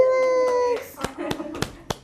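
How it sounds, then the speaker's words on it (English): A group of children at a library story time clap for a child: a sustained tonal voice first, then a short burst of uneven claps and slaps up close, with a voice mixed in. "We'll clap for you."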